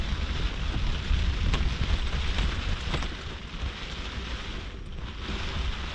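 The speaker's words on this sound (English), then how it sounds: "Now it's raining." Steady rain patters on the fabric of a roof top tent mounted on a Range Rover, a dense continuous hiss with scattered sharper drops, fairly close and alone without voices.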